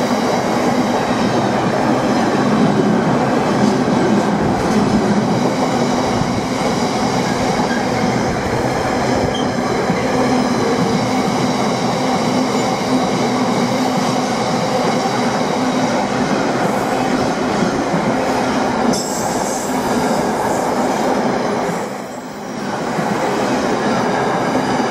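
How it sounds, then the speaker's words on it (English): A container freight train hauled by class 66 locomotive 66735 rolls past at Derby Road station, a loud continuous rumble and clatter of wagons lasting throughout, briefly dipping near the end. "Locomotive on the front is 66735. This one has some containers on it."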